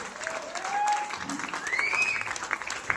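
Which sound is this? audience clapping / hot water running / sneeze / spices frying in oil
audience clapping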